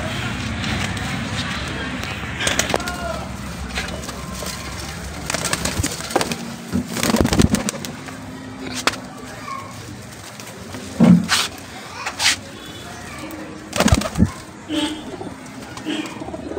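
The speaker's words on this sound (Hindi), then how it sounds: "सब टोटली तैयार कबूतर हैं बिल्कुल" Pigeons coo softly amid a busy outdoor scene, with scattered knocks and rustling and bursts of activity throughout.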